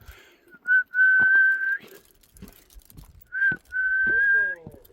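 On the Geumosan mountain trail, a person whistles a few long, steady, high notes in two phrases, with short pauses and faint background sounds between them.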